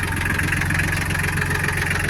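A Solis 26 Extra tractor with an extended wheelbase idles at a tractor lot, its engine a steady, even, close rumble with no other sounds.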